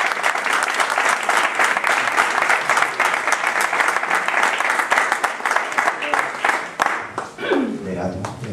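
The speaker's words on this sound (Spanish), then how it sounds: "Un aplauso, hombre." Conference audience breaks into sustained applause, dense clapping from a crowd running steadily for several seconds before tapering off near the end.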